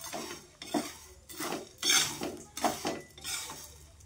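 A utensil scrapes and stirs spices being dry-roasted without oil in a pan over very low heat, giving a series of close, repeated scraping and clinking strokes in an uneven rhythm with no talking.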